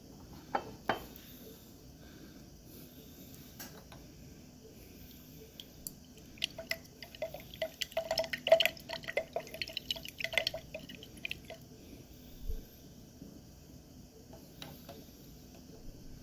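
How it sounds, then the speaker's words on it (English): Iodine solution is dripped into test samples in a chemistry lab, giving faint, scattered drips and small liquid ticks against a quiet background, busiest around the middle. "Next, I'm going to add the iodine solution to test for starch."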